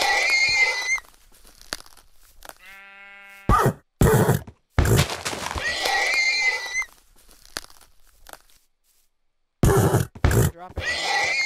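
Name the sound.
horse neighing in Minecraft video game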